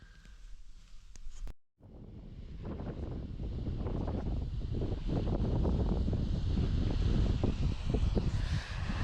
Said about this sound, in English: The wind is proper gusting through here,